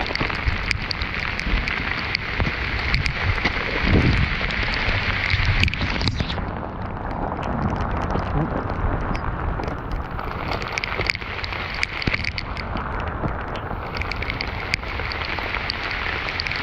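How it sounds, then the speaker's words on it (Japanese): Heavy rain pours steadily on surfaces outdoors among terraced fields, a dense continuous hiss with scattered louder drops and patter, loud and close throughout with no talk. "すごい雨やな。"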